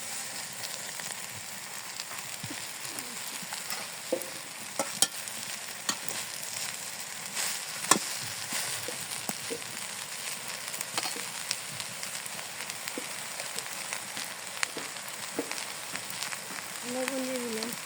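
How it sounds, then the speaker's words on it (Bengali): Leafy greens cooking in a pan in a village kitchen, a faint continuous sizzle with occasional scraping stirs and small clicks throughout. "এখন আমি শাক রান্না করবো, আমি শাক দিয়ে দিই।"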